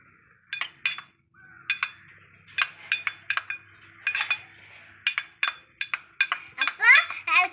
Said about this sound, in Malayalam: അപ്പം നമ്മൾ ഇളക്കിക്കൊണ്ടിരിക്കുകയാണ്.